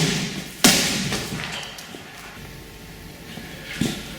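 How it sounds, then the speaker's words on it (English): A machete strikes a watermelon with one sharp, heavy thud that splits it, followed by a quieter second impact a few seconds later against faint background noise. "I'm going to show you exactly what a machete can do to a target. Now behind me is a watermelon"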